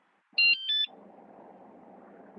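A cheap electronic alarm that doubles as a horn gives two quick loud tonal beeps at different pitches, followed by a low rumbling hum of background noise.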